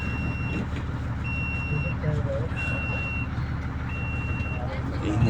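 A parked vehicle's alarm beeps at a desert work site: four evenly spaced, long, steady tones repeat through a constant low engine-like rumble and background noise.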